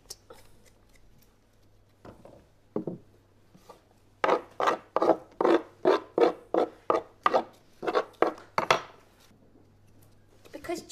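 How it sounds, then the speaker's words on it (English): Fresh ginger has its papery skin scraped off in a run of short, dry rasping strokes, a few tentative scrapes followed by a quick regular series, close and clear against a quiet kitchen background. "This way you don't lose any of the ginger, you just get rid of the skin."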